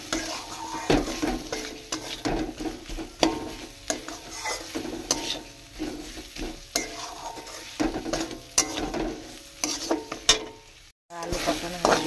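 Potatoes sautéing in a pan with chillies for a village-style snail curry, a continuous sizzle broken by frequent clanking stirs of a spoon against the pot, close and busy throughout with a brief drop near the end.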